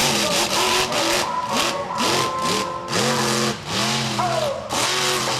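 Monster truck engine revving hard during a freestyle run, repeated rising and falling roars in quick bursts, loud and close.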